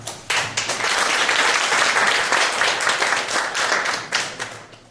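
A lecture audience breaks into loud, sustained applause that starts abruptly, holds full and dense for several seconds, then trails off slightly near the end.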